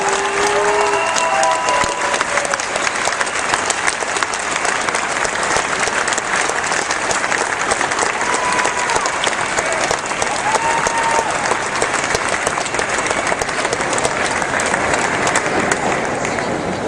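Sustained crowd applause fills a Democratic political rally in Michigan, dense and steady clapping from a large audience running unbroken throughout, with faint cheers and whistles rising above it.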